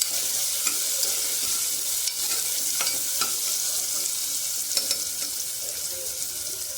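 Food frying in oil in a pan, a continuous close hiss and crackle, with soft stirring scrapes and occasional sharper pops throughout, no voices.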